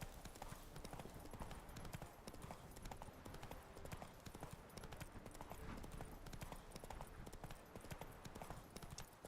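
In the video game Witcher 3, the horse Roach gallops with a dense, rapid clip-clop of hooves that stays quiet but unbroken throughout, mixed with game ambience.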